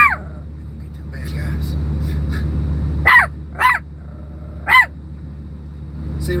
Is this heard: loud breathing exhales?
no